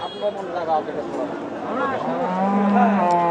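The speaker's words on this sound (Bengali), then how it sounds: "গরুটি বেশ কোয়ালিটিফুল গরু" A cow at a busy cattle market gives a low, drawn-out moo near the end, amid constant crowd chatter and nearby voices talking over it.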